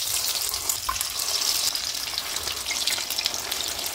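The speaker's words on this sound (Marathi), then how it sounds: "कढईमध्ये तेल गरम केलेलं आहे मी।" Fasting-style bhaji fritters deep frying in a wok of hot oil, giving a steady, broad hiss of bubbling oil that runs unbroken at moderate loudness with no voices.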